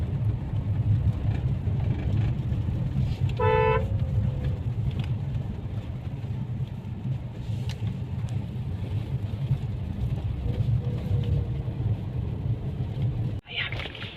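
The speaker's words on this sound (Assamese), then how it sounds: "ব'লচোন ক'লৈকে যায় গাড়ীখন চাওঁ।" A car travels on a road toward the Garoghuli picnic spot near Lokhra, Guwahati: a continuous low engine and road rumble, one short horn blast early on, and a sharp knock near the end.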